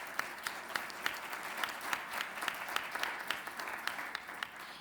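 Steady audience applause fills a forum hall for a Mexican aviation union event, a dense wash of many hands clapping at moderate distance with a few sharper individual claps standing out, no voices.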